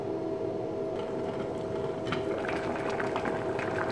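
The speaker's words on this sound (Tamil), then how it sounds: "மூடி போட்டு கொதிக்க விடணும்." Pongal vensanam gravy bubbling steadily in a covered pot, a soft continuous simmer with a faint hum beneath, close and fairly quiet, with no talk.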